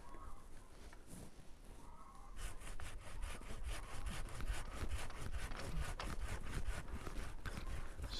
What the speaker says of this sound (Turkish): Testereyle alacağız mecburen.